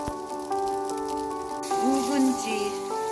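Tempura batter fries in hot oil with a bright crackling hiss like falling rain, steady and close over a few seconds, with a faint tonal hum and a brief vocal sound in the background.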